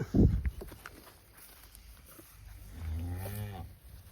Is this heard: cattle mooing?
yes